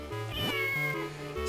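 A cat meows in The Legend of Zelda: The Minish Cap, a clear, drawn-out game cry heard over the steady background music.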